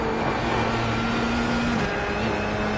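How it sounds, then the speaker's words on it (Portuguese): Tyre friction and scrubbing from a car in the iRacing sim, with engine volume turned down and tyre volume turned up, comes through as a steady, dense rushing noise with a faint tonal whine throughout. "Esse barulho de atrito, fricção, é o som dos pneus no iRacing."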